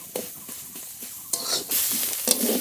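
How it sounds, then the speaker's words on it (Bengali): Ghetkol leaves fry in a pan as they are stirred, with soft scraping strokes at first and then louder bursts of sizzling, close by. "এবার আস্তে আস্তে জাল দিয়ে নেড়ে নেড়ে ভালো করে ভেজে নেব"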